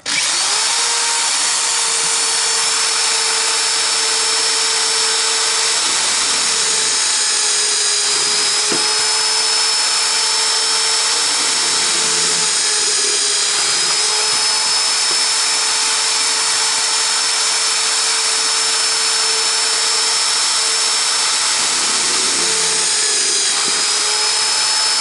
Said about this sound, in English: we'll put the larger holes in for the securing holes for the bracket